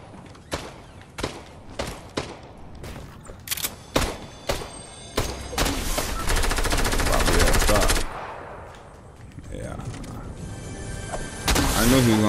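Gunfire in a Fortnite solo squads match: sharp single shots in an irregular rhythm, then a sustained burst of rapid automatic fire, loud and close, followed by more shots at the end.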